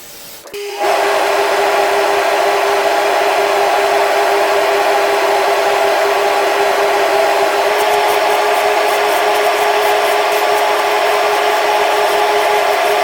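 A jewelry polishing machine spins up after a brief clatter and then runs as a steady, loud whine with a strong constant tone and broadband hiss, alone with no talking.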